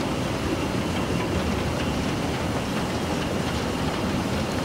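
Steam locomotive 35028 Clan Line runs in a train simulator game on the London to Portsmouth line, a dense continuous rumble and rolling roar at steady loudness, no voices.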